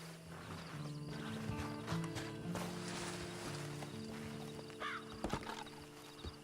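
Steady clip-clop of horse hooves at a walking pace in the video game Red Dead Online, under a low droning music bed, with a few heavier thuds near the end.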